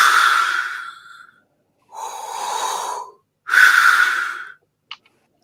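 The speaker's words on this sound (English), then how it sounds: "steady breathing sounds" A mint dragon, big as a house with glossy green scales, breathes slowly and steadily at the far end of a cave: three long, loud, airy breaths with pauses between, followed by a faint short snort.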